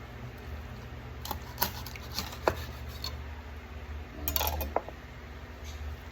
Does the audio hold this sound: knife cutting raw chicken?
yes